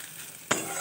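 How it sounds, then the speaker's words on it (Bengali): Onions frying in oil in a pan, a faint soft sizzle broken by a single brief, brighter scrape of stirring near the end. "পেঁয়াজটা দিয়ে ভাজা ভাজা করে নিচ্ছি আর একটু"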